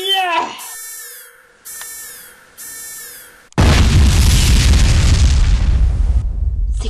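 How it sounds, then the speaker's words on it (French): A Monokuma plush toy blows up in a cartoon explosion effect, a sudden loud roaring boom that follows several bright synthetic tones and a meow-like cry, then rumbles on for a few seconds. "Putain, il a explosé?"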